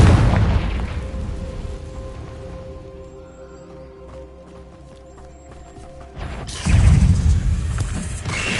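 Confringo spell explosion in Hogwarts Legacy, an opening boom and rumble that decays into quieter game ambience, then a second loud burst near the end, close and heavy.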